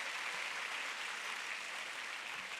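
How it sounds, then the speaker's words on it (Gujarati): Audience applause at a commerce counselling programme, a dense, steady wash of clapping that holds at an even level for the whole moment, with no voices standing out. "આ ખરેખર એ છોકરી માટે જોરદાર તાળીઓ જોઈએ."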